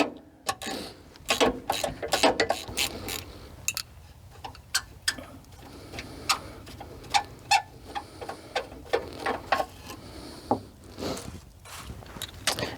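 Bolts come out of the steering box on a Jeep XJ, with irregular metallic clicks, ratchet ticks and clanks scattered across the stretch at close range, loud in bursts over a quiet background.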